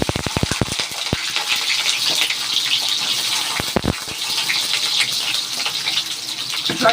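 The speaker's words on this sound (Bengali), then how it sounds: "তেল গরম হয়ে গেছে, এবার আলু দিয়ে দেব।" Potatoes dropped into hot oil for a fish dish give a loud, hissing sizzle with a few sharp clacks and sputters at the start and again midway, steady and close, with no speech.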